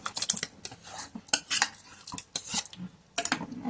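A metal spoon clatters and scrapes in a pan as barnyard millet (bhagar) is tipped in and stirred, giving irregular close clinks and scraping strokes with short pauses between them.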